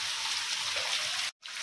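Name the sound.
rain falling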